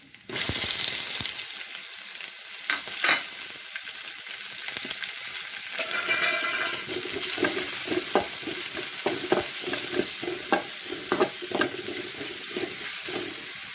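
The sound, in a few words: onions and green chillies frying in a pan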